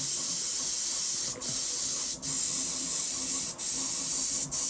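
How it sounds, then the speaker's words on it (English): A Steenbeck airbrush with a limiter sprays hardener-mixed paint onto models in a steady close hiss, broken by four short pauses as the trigger is released. "airbrush, which has a limiter on it, which helps in controlling the paint"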